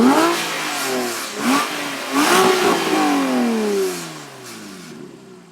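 A Porsche engine revs repeatedly with its exhaust valves open, louder and raspier, with sharp climbing surges and crackly exhaust bursts between them, then the sound cuts off abruptly.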